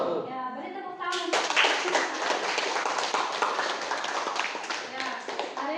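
A classroom of students claps after a group presentation on petroleum and natural gas, bursting in suddenly after a short spoken line and continuing as brisk, dense applause to the end.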